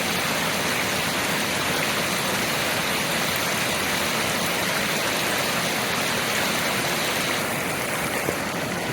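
A waterfall rushes along a New Mexico hiking trail, a constant, moderately loud wash of water noise that holds steady throughout with no talking.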